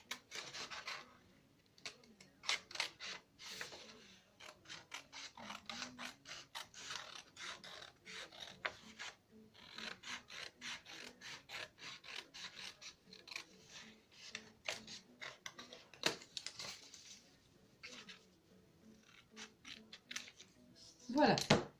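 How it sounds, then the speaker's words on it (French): Scissors snip through the inside of a paper envelope to widen its opening, a close run of quick crisp cuts and rustles that continues almost without pause, with a few short pauses in between. "je vais découper l'intérieur pour pouvoir agrandir l'ouverture"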